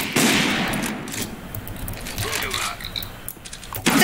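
Rapid bursts of Counter-Strike gunfire crackle and pop across the clip, loud and fairly close, with a mechanical clatter between shots.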